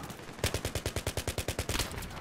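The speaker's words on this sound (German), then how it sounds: "Ich gebe nochmal einen kleinen Schuss auf die Viper ab." Rapid automatic gunfire in Battlefield 3, fired at a Viper attack helicopter: a steady burst of about fifteen evenly spaced loud shots lasting nearly two seconds.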